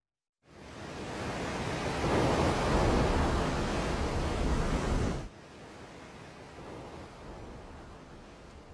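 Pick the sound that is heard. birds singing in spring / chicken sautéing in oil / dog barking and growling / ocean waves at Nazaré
ocean waves at Nazaré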